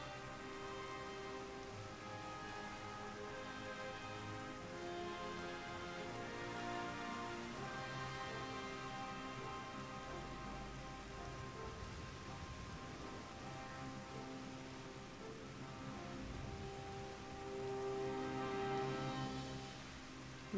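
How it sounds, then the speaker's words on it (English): Steady rain falling in the Final Fantasy XIV video game, a soft, even hiss of drops on surfaces that continues throughout over faint background music. "Man, it's really raining in here."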